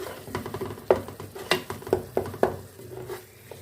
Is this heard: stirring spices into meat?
yes